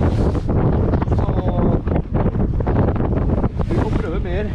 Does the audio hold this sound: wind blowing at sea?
yes